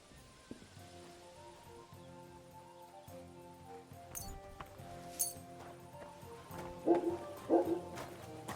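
A dog barks a few times in the medieval world of Kingdom Come Deliverance 2, fairly faint and short, over a soft steady background of game music.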